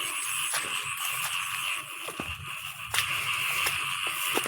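Frogs croaking steadily in a wet night setting near rocks and water, a dense continuous chorus with a few louder sharp calls standing out, with no talk over it.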